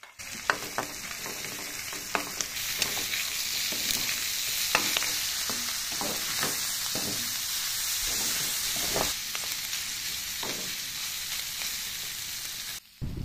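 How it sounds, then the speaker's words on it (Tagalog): Garlic and onion sauté in a pan for laing with pork, a steady close sizzle with repeated stirring scrapes and spatula knocks throughout, no voices. "Igisa rin ang bawang. At sibuyas."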